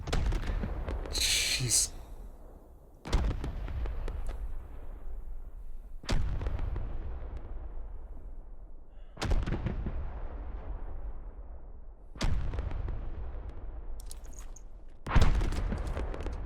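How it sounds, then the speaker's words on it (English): Artillery rounds from the video game Squad impact in a series of six loud, booming blasts spaced about three seconds apart, each with a long rumbling tail, with a brief spoken exclamation over the barrage. "Those rounds are out. Let's see the impact here."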